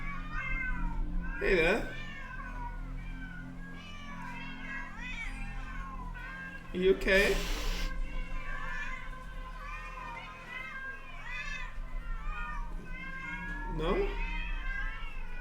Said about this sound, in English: Bunch of cats?